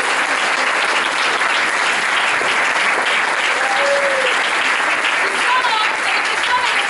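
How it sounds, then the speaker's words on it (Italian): Audience applause at the close of a theatre act, a staging of The Government Inspector by an amateur company, dense and steady clapping filling the hall at close range from start to finish. "quindi gli farei un applauso"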